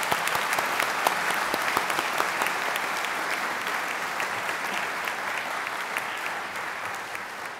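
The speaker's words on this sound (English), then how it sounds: "Please join me in giving them a round of applause." An audience at a university graduation ceremony for Faculty of Arts graduates claps steadily, a dense and even round of applause sustained throughout and easing slightly near the end.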